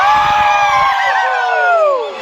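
A crowd of boys at a Bihu fair shouts together in one loud, sustained roar of overlapping high voices, holding steady for about two seconds before fading slightly at the end.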